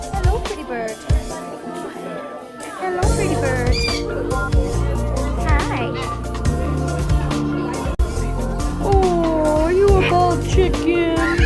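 A rescued parrot squawks and chatters in loud, bright bursts and whistled calls, close by, while someone talks to it in an affectionate voice.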